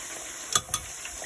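Horse mackerel frying in a pan, a faint steady sizzle with two quick scraping clicks close together as the fish is moved.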